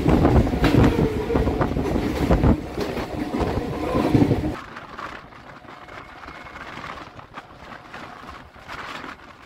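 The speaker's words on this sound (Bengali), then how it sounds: "রানাঘাট শিয়ালদা লোকাল।" A Ranaghat–Sealdah suburban local train runs at speed near Titagarh, its loud rumble and rail noise dropping sharply to a quieter, steady roll partway through, with no talk.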